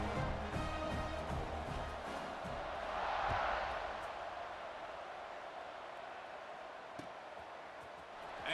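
A stadium crowd in EA Sports College Football 26 roars and cheers in a broad, distant swell that peaks briefly midway, then settles into a sustained murmur with faint ticks and no clear voices.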